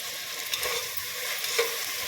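Onions sautéing in a pan for carrot rice, a close, steady hissing sizzle with a couple of faint stirring clicks, no voices.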